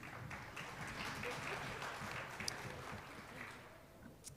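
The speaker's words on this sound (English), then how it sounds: "That was a pretty miserable applause for 395 days" An audience gives a brief, thin round of applause, scattered clapping that is fairly faint and fades out within a few seconds.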